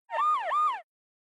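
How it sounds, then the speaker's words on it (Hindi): Dry, unprocessed police siren sound effect from a Punjabi beef-song beat, one clear close wail sweeping up and down twice, heard alone before the track builds. "सबसे पहले एक पुलिस सायरन आता है जिसपे कोई इफेक्ट नहीं है।"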